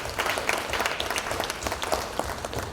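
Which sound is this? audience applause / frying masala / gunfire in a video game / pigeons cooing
audience applause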